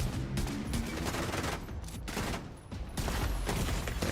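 Dense, continuous gunfire in The Division 2 using shock bullets, rapid overlapping shots sustained loudly throughout with a brief dip near the middle.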